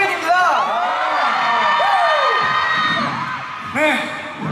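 Fans at a Universe Music Festival concert in Seoul shout, whoop and cheer continuously, a loud dense crowd roar with rising bursts of high-pitched yells near the start and end.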